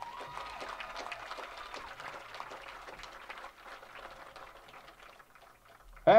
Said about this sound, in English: big round of applause for our senior girls soccer players